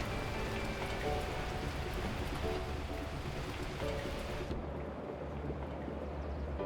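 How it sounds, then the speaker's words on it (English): Heavy torrential rain pours down steadily in the video game Beacon Pines, a dense, continuous hiss at constant loudness with no voices over it, its high end thinning out near the close. "At that moment, the heavens opened up, unleashing torrential rain."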